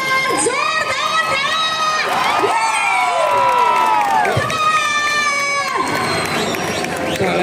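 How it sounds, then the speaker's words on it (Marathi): A large crowd cheers and shouts for Govinda teams at a dahi handi festival in Satara, with loud, continuous, high-pitched children's yells and whoops and little clear clapping. "टाळ्या वाजवून गोविंद पथकांचं स्वागत"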